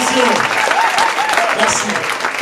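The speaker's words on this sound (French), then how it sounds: "On applaudit, donnez-leur de l'énergie" Theatre audience applauding stage performers at a first-creation show in a Magic Mirrors venue, dense steady clapping throughout with a host's voice speaking over it.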